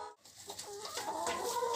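Several chickens cluck and murmur nearby in a continuous, overlapping chorus.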